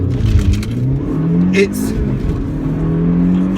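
A 2012 Audi S3 Black Edition Quattro sports hatchback accelerates hard from 0 to 60, its engine note rising steadily and loud from inside the cabin, with a voice speaking over it.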